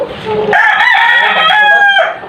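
A rooster crows loudly and close by, one long sustained call lasting nearly two seconds.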